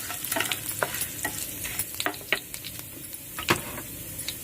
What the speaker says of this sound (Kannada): ಸಾಸಿವೆ ಸಂಪೂರ್ಣ ಸಿಡಿದಿದೆ